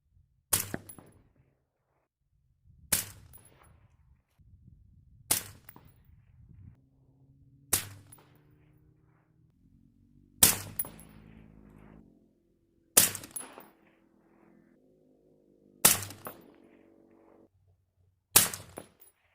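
Eight sharp AR-15 rifle shots with reloaded ammunition are fired over a chronograph, evenly spaced about two and a half seconds apart, each a loud crack with a brief echo, and faint ringing tones between some shots.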